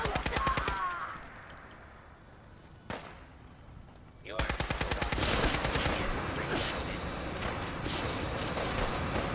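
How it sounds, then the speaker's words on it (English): Gunfire in Fallout 4: rapid automatic bursts crackle up close, pause briefly with a single shot, then resume as a sustained heavy fusillade with chaotic battle noise underneath. "I'm gonna run my clip empty here pretty quick."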